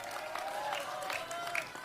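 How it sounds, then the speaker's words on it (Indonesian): An audience applauds the sultans of Cirebon's royal courts at an evening cultural parade in Cirebon. The clapping is steady and fairly faint, with crowd murmur and tonal background sound. "para sultan yang ada di wilayah Cirebon hadir, tepuk tangan"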